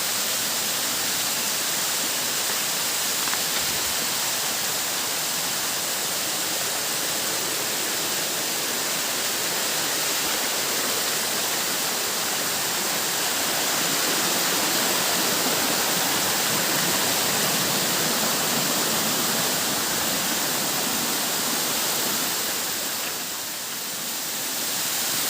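Bicibis Falls pours in a steady, dense roar of rushing water that stays loud and even throughout, heard from nearby with no voices.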